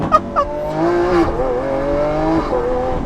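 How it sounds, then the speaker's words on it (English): A Lamborghini Aventador S with a naturally aspirated V12 revs and accelerates, sharp blips at the start then a loud sustained engine note climbing and shifting, heard up close. "that massive, breathtaking, naturally aspirated V12. I mean, that thing sounds so good"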